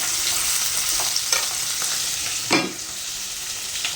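Budankaya vegetable frying on high flame, giving a continuous close sizzle with a few stirring scrapes and a brief louder burst partway through.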